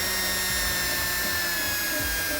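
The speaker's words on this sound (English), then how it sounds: "And we're going to drill this one here first." A drill bores a hole into a C8 Corvette body panel while an aero kit is fitted, a steady whirring hum heard close up with small load changes and no talking.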